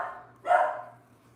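Biggie, a dog indoors, gives a single moderately loud bark at something outside, over a low steady hum.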